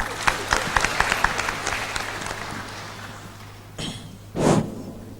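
Applause breaks out from an audience at a church talk on persistence in prayer, scattered claps over a steady low hum, thinning out before a short burst of noise near the end.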